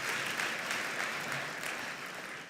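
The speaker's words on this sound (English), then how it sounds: "So give yourself a round of applause." Steady, dense clapping from an audience at an awards ceremony honoring a speaker, sustained and fairly even throughout without any voices standing out.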